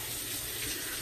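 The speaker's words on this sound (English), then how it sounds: "Did my warm water, cold water rinse" Tap water running steadily to rinse a shaving brush at a sink, a continuous close hiss and splash filling the whole moment with no talk.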